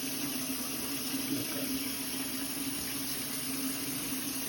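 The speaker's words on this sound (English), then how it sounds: "Working my hands into a lather. Washing my wrist." Hands being washed with soap under running water at a sink, a steady close water flow with a constant hum beneath it.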